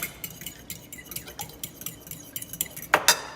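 Eggs are whisked in a bowl for scrambled eggs in fried rice: quick, rhythmic metallic taps and clinks of a utensil against the bowl, close and fairly quiet, with no talk.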